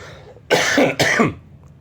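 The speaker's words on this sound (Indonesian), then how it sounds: "saya masih batuk soalnya ini" Two sharp, forceful coughs in quick succession, close and loud, with quiet before and after.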